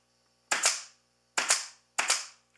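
A staple gun drives staples through upholstery fabric into a wooden sofa rail. Three sharp, close, loud snaps land about a second apart, each one a quick double crack, with silence between.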